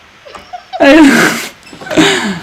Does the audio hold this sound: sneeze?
yes